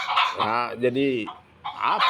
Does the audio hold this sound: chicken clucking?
yes